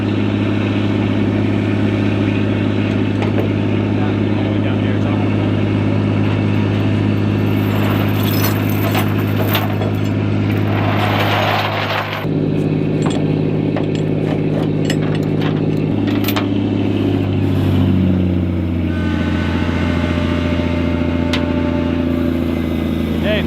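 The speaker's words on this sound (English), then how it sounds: "Old trusty green tow truck comes through again." A green tow truck's engine runs steadily and loud throughout, a constant low drone that shifts pitch slightly partway through, with faint clinks of chain or keys over it.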